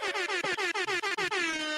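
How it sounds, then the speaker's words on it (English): A loud, blaring air horn sounds in a rapid series of stuttering blasts, then holds one long final blare. "might air horn that"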